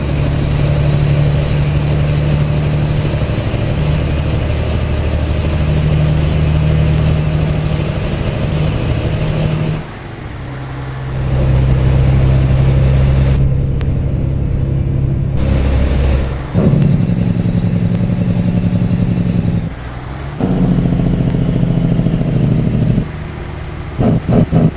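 A Cummins X15 truck engine in American Truck Simulator drones loudly and steadily throughout, with brief dips and shifts in tone as the rig changes load.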